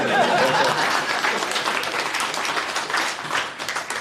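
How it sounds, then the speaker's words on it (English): A tech fest audience gives a round of applause, loud and dense at first, then thinning slightly, with faint chuckles mixed into the clapping. "round of applause for that one"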